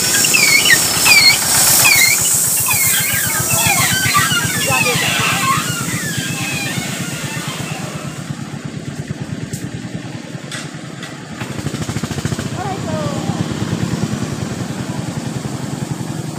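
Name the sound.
motor van engine running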